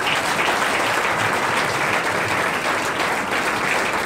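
A church congregation claps in dense, steady applause that fills the space evenly throughout, with no breaks and no single clap standing out.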